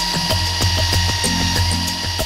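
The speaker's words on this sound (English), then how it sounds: "The drilling has started, so the tiny microchip can be placed in the horn." A power drill bores into a rhino horn to fit a microchip, making a steady, close mechanical whir with rapid regular pulsing throughout, and no voices.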